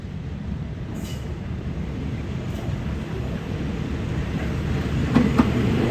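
Special city-class train no. 356 passes the Bang Sue diesel depot in Bangkok, a loud, steady rumble of wheels and engine that continues throughout with faint clanks near the end.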